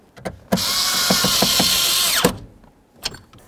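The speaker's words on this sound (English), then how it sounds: "let's put in our other screws under here. Do the same to the other side." A power driver spins a screw into a 1994–2004 Chevy S-10 shifter boot, one loud steady whirring burst of under two seconds with ratcheting clicks, framed by a few nearby knocks and taps.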